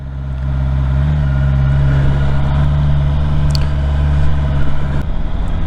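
A Honda CBR650R with E-Clutch pulls away on a ride, its engine a steady, loud low drone that holds close and even, then shifts abruptly near the end.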